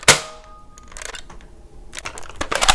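X-Shot toy blaster fired indoors: a sharp snapping pop at the start, followed by softer clattering and plastic handling sounds, with a few more clicks and rattles near the end.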